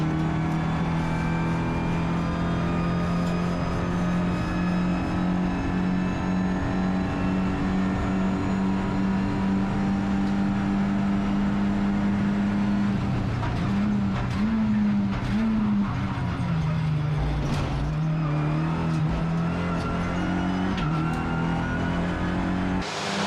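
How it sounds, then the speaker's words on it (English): Renault Clio Cup race cars from the 2022 Clio Cup Europa at Monza roar through the chicane, engines droning steadily, then dropping and rising in pitch as drivers brake and accelerate, with layered cars close together and loud throughout. "it's no wonder Nikola Miljkovic was flying into the chicane"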